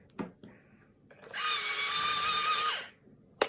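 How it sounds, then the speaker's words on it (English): An electric pencil sharpener whirs steadily for about a second and a half after a few brief clicks and handling noises, then spins down, ending with a sharp click. "It's an electric sharpener."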